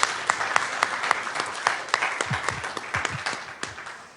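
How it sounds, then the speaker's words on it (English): An audience at an employee forum meeting applauds, a dense round of clapping with a few louder individual claps standing out, steady throughout and gradually thinning toward the end. "Please give yourselves and each other a well-deserved round of applause."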